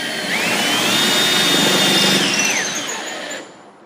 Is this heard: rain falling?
no